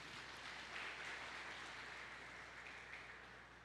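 A church congregation applauding, a steady wash of many hands clapping at a moderate distance, sustained and fading slightly at the end.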